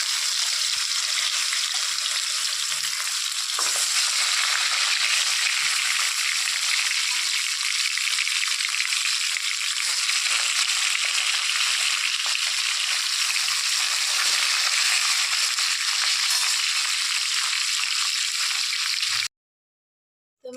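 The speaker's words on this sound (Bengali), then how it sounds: "তো মাছের মাথাগুলো ভেজে নিয়েছি" Catla fish heads rubbed with salt and turmeric fry in mustard oil, giving a loud, dense, unbroken sizzle close by that cuts off abruptly near the end.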